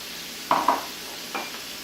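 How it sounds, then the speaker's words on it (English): Shredded carrot dropped into a pan of sizzling onions and garlic for a stir-fry, giving two sharp close clatters followed by a softer third, with a light sizzle in the background. "to that I am going to add a half a cup of shredded carrot"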